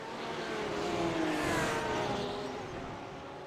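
GT3 race cars, a Lamborghini among them, racing at Circuit Gilles Villeneuve in a sim racing game, with a steady engine drone and rising and falling revs of several cars close together.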